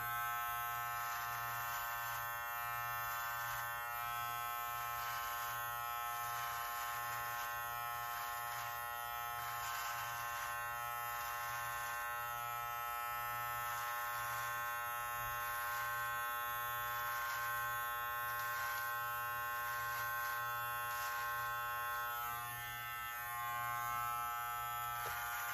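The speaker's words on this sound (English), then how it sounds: "Seems like a good trimmer." A Live Bearded MT-1 electric beard trimmer runs steadily close by, a constant high-pitched motor buzz with a low hum underneath that barely changes for the whole stretch.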